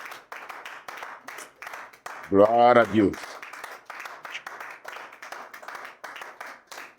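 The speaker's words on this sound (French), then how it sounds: "Encore des acclamations à ton Dieu ce matin." A church congregation claps in praise to God, steady rhythmic clapping throughout, briefly overtaken by a loud sung or shouted voice in the middle.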